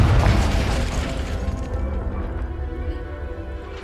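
A Confringo spell blast goes off in Hogwarts Legacy with a loud, close boom at the start that fades into a rumbling, crackling decay.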